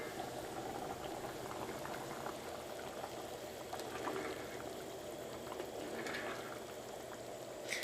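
Potatoes simmer in a covered pot for a Kerala cauliflower curry, a steady low bubbling and hiss of boiling liquid that runs evenly throughout at modest volume with no voices.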